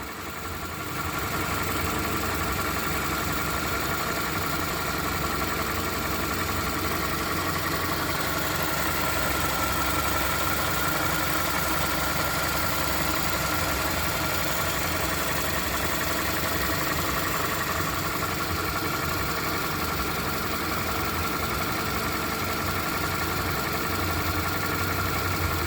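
A freshly overhauled 2007 Toyota Camry engine idles during break-in, producing a steady, even running drone that holds for the whole stretch with no voices.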